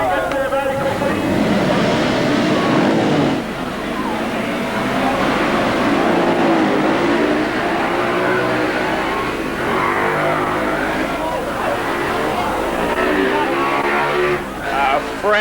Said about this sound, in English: Frantic start down there on the grid as the 40 bikes got away